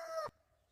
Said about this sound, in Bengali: উঠোনে মুরগি ডাকছে